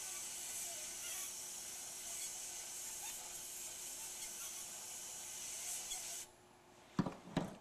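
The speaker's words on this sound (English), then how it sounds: "Then we're going to get in and just blast the design around it." Sandblasting a design on glass around a stencil at about 18 pounds of pressure gives a steady, faint hissing spray that stops near the end, followed by a couple of brief handling clunks.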